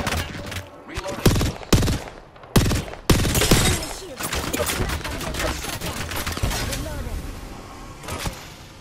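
Gunfire in Apex Legends, with enemies firing in bursts of sharp shots and then a rapid sustained stream of automatic fire with mechanical clatter, loud and close, with a voice talking over parts of it.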